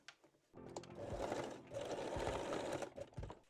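A sewing machine runs in two steady bursts, stitching the seam allowance of cotton jersey lace-back Brazilian panties to one side, close and moderately quiet, with brief pauses and handling clicks between runs.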